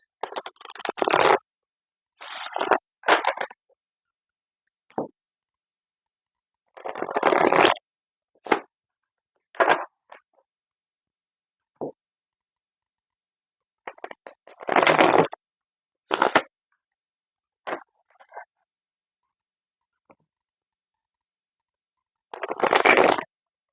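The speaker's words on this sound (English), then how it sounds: "Okay, so I have my cards shuffled." Tarot cards being shuffled by hand, in irregular bursts of crisp riffling and sliding separated by silent pauses, close and clear with no talk.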